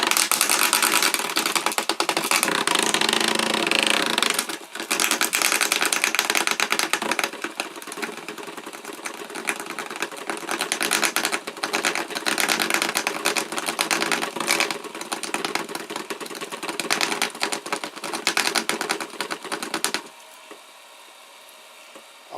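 A homemade shredder for 3D-printed parts, driven by a wiper motor on a 12 volt supply, grinds and chatters loudly and steadily with a brief dip partway through, then drops to a quieter hum near the end.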